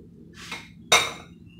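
A spoon strikes a pot while mixing hearty squash food, giving two short metallic clinks in an otherwise quiet kitchen.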